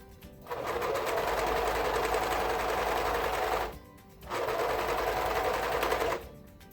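A serger sews elastic onto swimsuit fabric in two loud, close bursts of rapid mechanical whirring, separated by a brief pause, with a low hum beneath.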